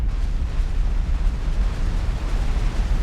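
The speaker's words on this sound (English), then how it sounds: "Oh, and that little tertiary explosion at the end." Explosion with a tertiary blast in the space game X4: Foundations, a dense, continuous roaring boom that stays loud throughout, heard alone without talk.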